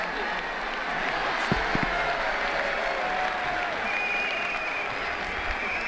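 Stadium crowd applause and cheering in the Ashes Cricket 2009 video game, a steady wash of clapping that holds at an even level throughout, with brief knocks early on and faint commentary voices beneath.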